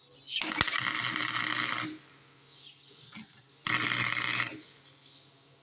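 Welder working on a cracked, broken deck left out for scrap, two loud crackling buzzy bursts of about one and a half seconds each, separated by a quieter gap with faint background noise.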